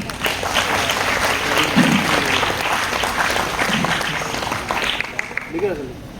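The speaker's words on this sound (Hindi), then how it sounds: "उनका हम सभी तालियां के साथ जो है उनका जोरदार स्वागत करें" Sustained applause from an audience, dense clapping throughout with voices mixed in under it.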